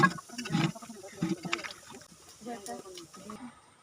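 Water poured and splashing into a cooking pot of beef with meat and biryani masala and potatoes, a brief close pour with a voice talking over it.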